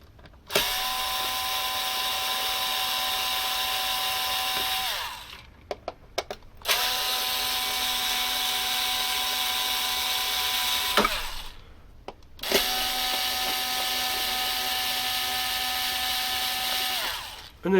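A power screwdriver backs out three screws holding the tone arm of a Technics Mark 5G turntable. It makes three separate, loud whining runs of about four to five seconds each, nearby, separated by short pauses and clicks.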